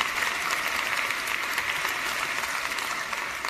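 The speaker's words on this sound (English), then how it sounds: "if you give her a short applause" An audience at the Deutsche Welle Global Media Forum 2018 conference gives a short round of applause to welcome a guest on stage: steady, even clapping from a sizeable hall, moderately loud and unbroken throughout.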